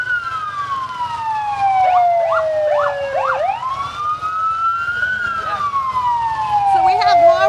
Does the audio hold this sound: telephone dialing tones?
no